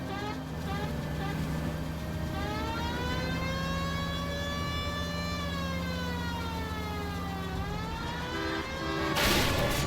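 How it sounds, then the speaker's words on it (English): A police car siren in the L.A. Noire video game wails continuously with a steady rising and falling tone, loud and close, as a voice talks over it. "You hear the siren."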